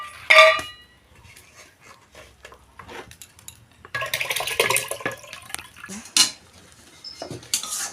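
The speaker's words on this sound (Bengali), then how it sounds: "চালটা তুলে দেবো।" Rice goes into a pot of hot water amid kitchen clatter: scattered metallic clinks of pots and utensils, then a longer rush of pouring and splashing, close and uneven.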